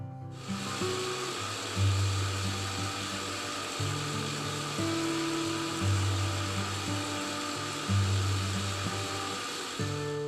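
A kitchen mixer grinds tender coconut flesh, coconut water and sugar into a paste, its motor whirring steadily with rhythmic rises and dips in pitch as the blades churn the load.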